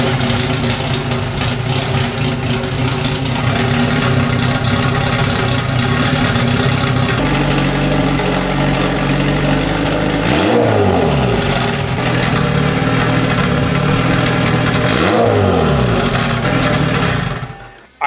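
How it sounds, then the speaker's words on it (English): A turbocharged Honda B18C engine in an EG hatchback idles loudly up close, then is revved twice in sharp rising and falling bursts before cutting off. "Car should start up and run totally fine when I start it right now."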